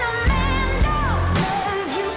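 Recorded pop music plays briefly, with a sustained synth bed, a sliding melodic line and low bass. It is clear and fairly loud, and no one talks over it.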